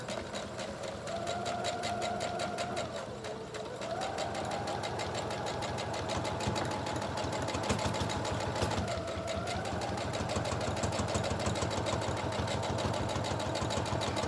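A sewing machine stitches through thick jacket fabric, running steadily for the whole stretch with a fast, even needle rhythm and a loud mechanical hum, briefly changing pace now and then, with no talking.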